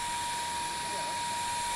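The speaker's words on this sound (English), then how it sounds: "we're going to look at a typical stick vacuum cleaner, and we're going to hear the noise" A typical stick vacuum cleaner running, a steady loud whine and broadband rushing hum with a sustained tone, continuous over the short stretch in a busy trade-show setting.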